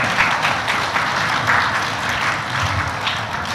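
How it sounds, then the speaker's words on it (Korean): Guests at a wedding ceremony in Gwangju applaud, a steady, fairly loud wash of many hands clapping at once that holds evenly throughout without a break. "큰 박수 부탁드립니다"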